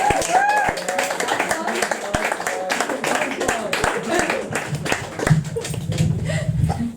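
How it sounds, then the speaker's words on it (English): Crowd applause for poet Chloe at a modern poets reading event: scattered, sharp handclaps run through the whole stretch beneath loud overlapping talk from people in the room. "More applause for Chloe, please."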